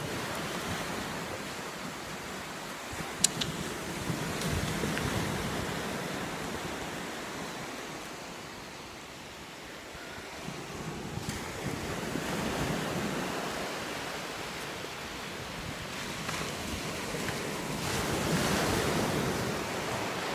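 Sea waves wash onto a beach in a steady, rolling roar that swells and fades over about twenty seconds, with wind across the microphone and no talk.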